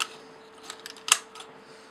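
A plastic Transformers Generations Fall of Cybertron Laserbeak toy pushed into Soundwave, giving a few small plastic scrapes and one crisp click, close and quiet with no talking.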